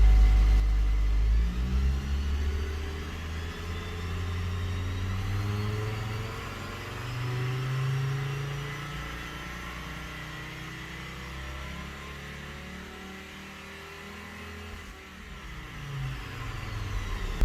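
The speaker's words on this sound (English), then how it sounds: "gradually rev to fuel cutoff and release" A Hummer H3 engine running during a crankshaft position sensor relearn, revving gradually up to fuel cutoff and then released, with steadily rising and falling engine tones heard close and alone.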